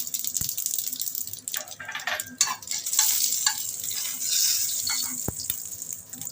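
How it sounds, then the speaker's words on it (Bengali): Bengali five-spice and mustard seeds are tempered in hot oil with a dried red chilli for a hog plum chutney, crackling and sizzling steadily up close with irregular pops and stirring scrapes. "এবার আমি পাঁচ ফোড়ন আর একটুখানি সর্ষে বেশি দিয়ে ফোড়নটা দিয়ে দিচ্ছি"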